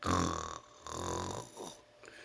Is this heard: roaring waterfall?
no